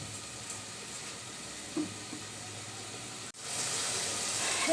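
Chili and turmeric sizzling as they are sautéed in a pan for a cauliflower-stem and red lentil curry, a steady soft hiss that swells into louder, brighter frying toward the end, with no one talking.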